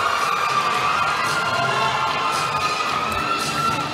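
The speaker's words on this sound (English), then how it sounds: "And nagwawala yung crowd dito sa likod natin." Volleyball match crowd cheering loudly behind the court, a sustained roar of shouts and high whoops filling the arena at a constant level.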